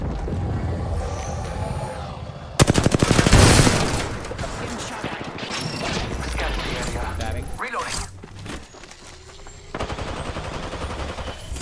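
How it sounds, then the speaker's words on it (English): Bursts of automatic gunfire and impacts in a shooter video game, loud and close, with rapid rattling volleys mixed with game effects and occasional voice chat. "I am taking fire."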